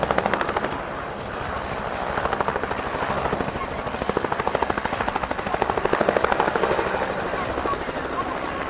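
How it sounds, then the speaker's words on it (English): Rapid, heavy rotor thumping of a nearby UH-1 military helicopter landing hard in a tailwind fills the air continuously, loud and rhythmic, with faint voices underneath. "The UH-1 helicopter landed hard due to a tailwind."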